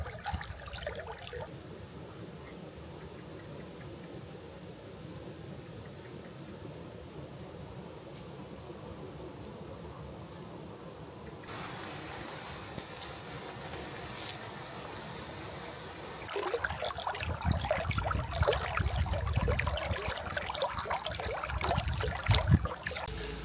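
Water gushing from a storm overflow, a continuous rushing roar that stays fairly even at first, then grows noticeably louder and rougher for the final several seconds.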